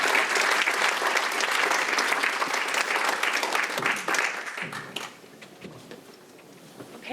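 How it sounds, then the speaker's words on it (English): An audience at a brain-science talk gives dense, sustained applause for about five seconds, then the clapping thins out and fades to scattered claps. "give a warm applause for Melissa Herman."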